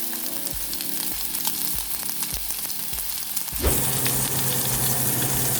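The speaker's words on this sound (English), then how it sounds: "Give it the best Cowboy sear ever on this Cowboy ribeye." A thick cowboy rib eye steak sears in a hot pan, a steady loud sizzle and crackle with a few scrapes or thumps, then a surge of stronger frying.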